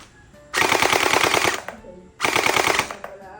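A gel blaster toy gun fires Orbeez gel beads in two loud, rapid bursts of about a second each, a dense mechanical rattle of closely spaced shots separated by a short pause.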